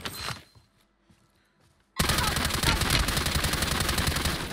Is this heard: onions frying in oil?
no